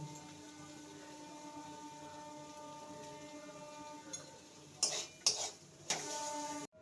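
Potato stuffing gets stirred in a pan, a quiet low hum of cooking broken near the end by a few sharp scrapes and clinks of a spoon against metal.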